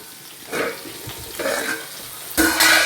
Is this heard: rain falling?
no